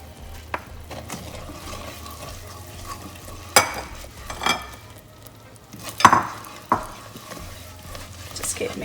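A thick mixture for lavariya stirred in a pot over low heat, soft scraping and sloshing strokes repeating at an irregular pace, with a few louder knocks of the spoon against the pot.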